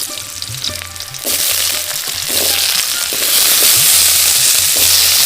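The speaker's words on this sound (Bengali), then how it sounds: "আলুগুলো লাল করে ভেজে নেব" Potato pieces frying in oil with cumin and green chillies, a loud close sizzle that grows denser and hissier over a few seconds, with occasional stirring scrapes and no talk.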